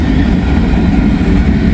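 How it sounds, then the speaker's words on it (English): A long freight train with trash cars rolls past as a loud, continuous low rumble and rattle, steady and close throughout. "A long train."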